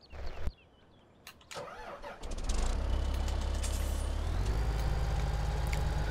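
A half-track tractor in Farming Simulator 2017 cranks with a few short clicks and a starter whine, then its engine catches and settles into a loud, steady diesel rumble that carries on to the end.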